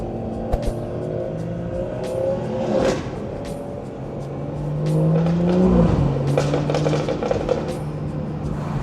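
A BMW 340i exhaust burbles and crackles with sharp pops, then rises into a rev with a gear change, loud and close from inside the car on a road drive.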